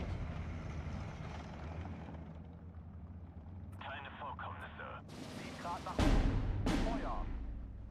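Infantry gun artillery in Steel Division 2 fires from a gun pit with several heavy booming reports near the end, over a low rumbling battle bed.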